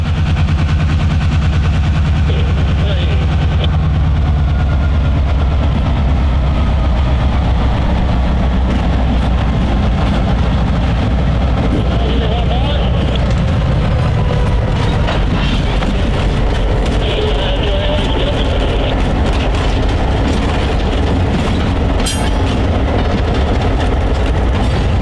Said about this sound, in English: In charge of the train that day was High Hood GP38-2, number 5094, which pulled a short train of cars to Gerdau Max Steel